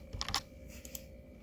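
A quick run of clicky computer keyboard keystrokes is heard as Stripe code is typed, a few sharp taps close together, then a pause and a couple more presses, faint and close with no talking.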